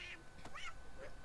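Donald Duck quacks twice in Kingdom Hearts III, with raspy cartoon squawks over a steady game soundtrack.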